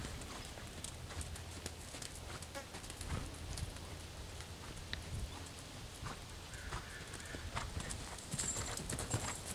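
A horse canters during a riding lesson, its hooves beating a steady rhythmic clip-clop over a noisy outdoor background.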